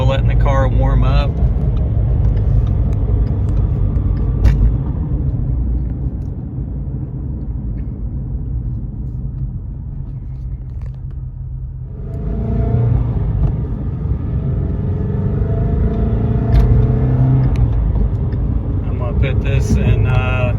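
A loud, throaty 2016 Shelby GT350R engine, exhaust open in sport mode, rumbles steadily at idle, briefly dipping then swelling again, with someone speaking over it for much of the time.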